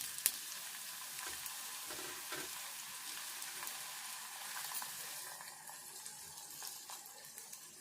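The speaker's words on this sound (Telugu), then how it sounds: "జీలకర్ర, ఆవాలు కొంచెం ఇవి వేగంగానే ఉల్లికాడలు వేసుకోవాలి." Spring onions frying in oil with cumin and mustard seeds, a soft steady sizzle with a sharp clatter at the start and light stirring knocks, fading slightly toward the end.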